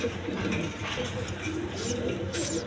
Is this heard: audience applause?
no